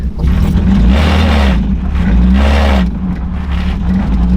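A BMW engine revs loudly and close, its exhaust rising and falling in two strong surges over a deep rumbling idle.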